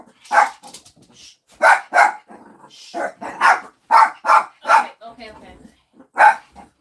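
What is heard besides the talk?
dogs barking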